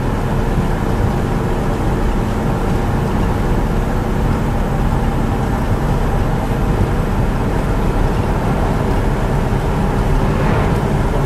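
A red 1957 Chevrolet Bel Air Nomad station wagon cruising down the road, a steady loud broadband rumble of engine and road noise heard from inside the car, unchanging throughout.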